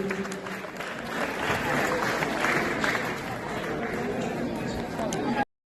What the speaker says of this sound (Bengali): একটু করতালি দিন।